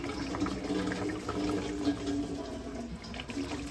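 Fluid drains from a 1975 Lincoln Continental engine into a drain pan, a soft steady trickling and splashing of liquid at moderate distance.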